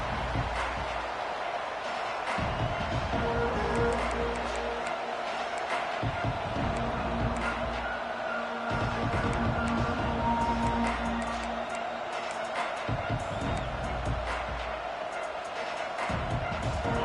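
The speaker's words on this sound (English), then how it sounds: "This crowd ready to make its presence known." Stadium crowd noise from the video game College Football 26, a steady roar of a large crowd throughout, rising and falling in waves with some tonal chanting or band elements layered underneath.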